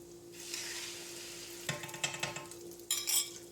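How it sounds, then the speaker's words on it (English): Bacon sizzles and crackles in a pan for an omelet as egg is poured in, with steady frying hiss, stirring scrapes and a few utensil clinks against the pan, close but fairly quiet. "once we have the bacon sizzling and greasy, I'm gonna pour the egg and cook it"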